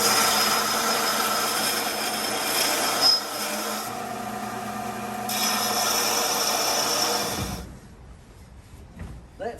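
A belt sander grinds steel for a welded car cage, taking off about an eighth of an inch in a loud, steady, continuous rasp that cuts off abruptly near the end.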